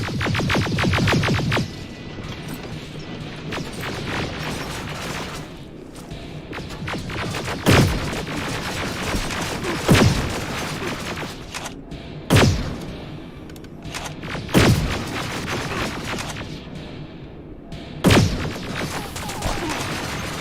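Gunfire and heavy impacts in Terminator: Resistance, opening with a rapid burst of shots followed by a string of loud, widely spaced blasts over a continuous rumbling combat background.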